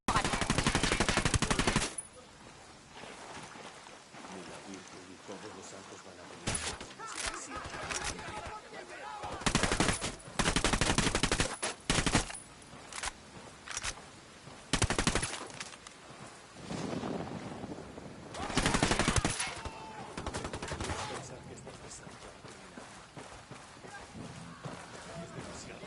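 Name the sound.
gunfire from the video game Wildlands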